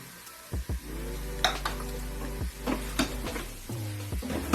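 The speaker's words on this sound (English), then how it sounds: "I'm going to let it saute." Lamb pieces dusted with flour sauté in a pot, giving a steady close sizzle broken by a few scraping stirs and knocks against the pot.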